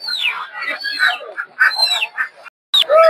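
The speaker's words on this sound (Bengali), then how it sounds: "এদিকে সব হচ্ছে চীনা হাঁস" Chinese ducks at a poultry market in Putia, Narsingdi, call out nearby in loud overlapping squawks and honks, several birds at once with one brief pause.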